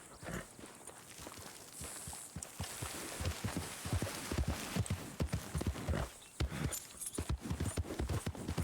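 A horse gallops in Red Dead Redemption 2, with a steady rapid clip-clop of hooves on a dirt trail, loud and close and continuing throughout, with no talk over it.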